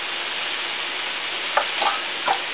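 Mushrooms being stirred in a frying pan, with a steady hissing sizzle throughout and a few soft scraping strokes of the utensil near the end. No one speaks.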